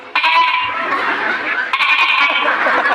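A young goat bleats loudly and close by in two long, wavering cries, the second following a brief break.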